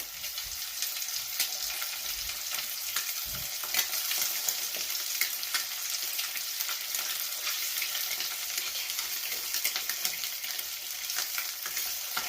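Eggs coated in turmeric and chilli powder are shallow frying in a pan, giving a continuous, close hiss of sizzling oil with small crackles and pops throughout and no talking.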